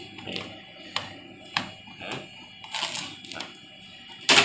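Protective plastic film is peeled off a new Epson L3210 EcoTank printer, giving a series of close, crisp crackling rips and snaps at irregular intervals, ending in a sharper tearing burst.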